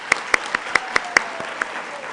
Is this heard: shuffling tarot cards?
no